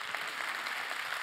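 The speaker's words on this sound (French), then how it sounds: "je voudrais des applaudissements plus forts pour les orgas" Dense crowd applause, a steady wash of many hands clapping at moderate distance, continuing without a break.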